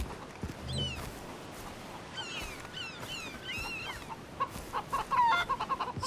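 Chickens cluck and squawk in the Far Cry 3 video game, several bursts of clucking over a steady outdoor ambience, moderately close and growing busier toward the end.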